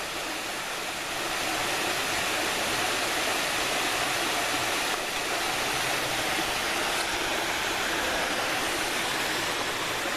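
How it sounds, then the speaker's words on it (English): Steady broadband rush of a waterfall across a creek in the woods, constant and moderately loud, filling the whole scene without pauses or voices. "Right across the creek from me here"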